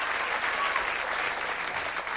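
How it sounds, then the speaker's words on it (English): Studio audience at a 2004 Price Is Right game show applauds steadily and loudly for the contestants, a dense continuous wash of clapping with cheering mixed in, lasting the full two seconds. "Please give our contestants a huge round of applause because they're doing battle."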